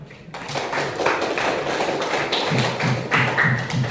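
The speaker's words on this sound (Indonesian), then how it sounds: "Kita beri aplaus dulu" A classroom group claps together after a group presentation, producing a steady patter of many hands that lasts a few seconds with no voices.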